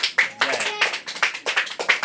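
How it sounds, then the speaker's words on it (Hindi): Children at an open school clap their hands in uneven bursts, a handful of sharp, close claps with short pauses between, while a faint voice is heard in the background. "ताली बजा दो इसी नाम पर, माता पिता की जय।"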